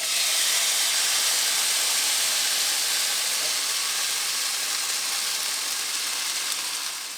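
Marinated chicken for Korean cheese buldak cooking in a pan, a loud continuous hiss and sizzle with no break, easing slightly toward the end.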